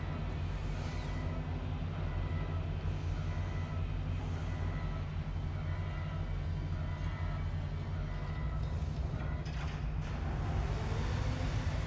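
Train riding along in the Star Citizen video game, a steady low rumble and droning hum with faint rattles, continuous and moderately quiet, with no talking heard.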